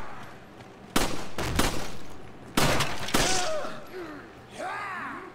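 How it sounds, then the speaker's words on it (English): Gunfire in Resident Evil 5 rings out as shots are fired through windows, two sharp bursts of several rapid loud cracks with glassy breaking tails, followed by strained shouts from game characters. "You can shoot them through the windows."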